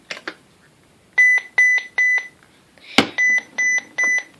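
A Uniden 5.8 GHz cordless phone on a live line gives two soft clicks, then a pattern of three evenly spaced electronic beeps. After a sharp click the same three-beep pattern repeats, close and clear.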